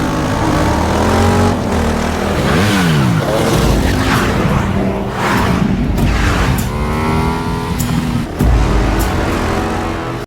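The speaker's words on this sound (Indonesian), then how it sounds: "Kejar-kejaran motor antara Beth dan anak buah Mansur." A motorcycle chase in a film, with loud engines revving, roaring and sweeping past in rising and falling surges, close and continuous throughout.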